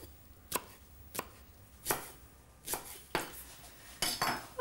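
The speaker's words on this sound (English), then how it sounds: "And spring onion as finely sliced as you can muster." A knife finely slices chilli and spring onion on a board in six or so crisp, evenly spaced chops, close up, with no voices.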